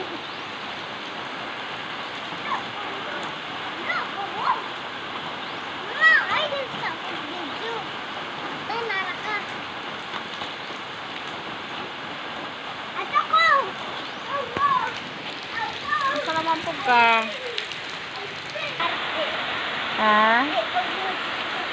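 Steady rain falls as a soft, even hiss throughout while a child plays and showers in it, with several voices talking and calling over the downpour.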